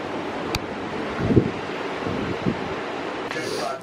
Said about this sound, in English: Look at the ocean, guys.